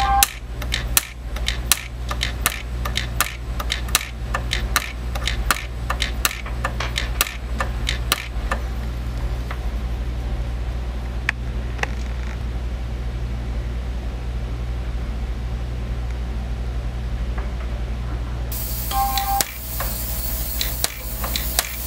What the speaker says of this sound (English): And there it is, welded all the way around.